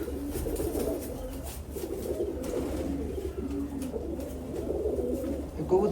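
Several loft pigeons coo steadily in overlapping low, rolling calls at close range, a continuous murmur of birds with a few faint rustles and no clear talk.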